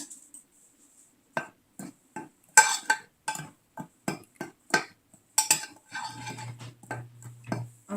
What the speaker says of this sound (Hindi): हम इसको कर लेंगे मिक्स